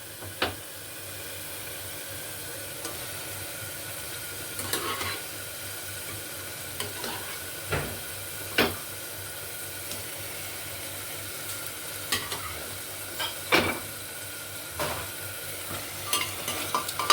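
Mutton pieces fry with ginger-garlic onions for mutton rezala, a moderate continuous sizzle under regular scraping and knocking of the stirring spoon against the pan.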